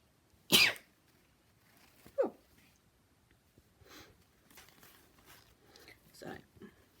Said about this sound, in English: I'm going to sneeze, so excuse me.